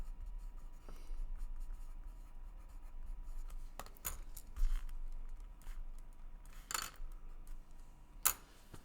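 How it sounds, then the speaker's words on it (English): A pen writing on paper, with soft scratching strokes and a few sharper taps across several seconds, quiet and close with no talking. "I like to write item found"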